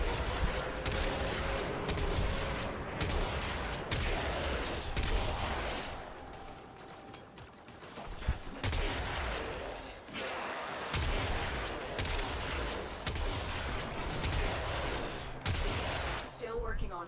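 Rapid bursts of gunfire in the sci-fi shooter game Warframe, firing in repeated volleys with short pauses, loud and close, with game characters talking over parts of the action.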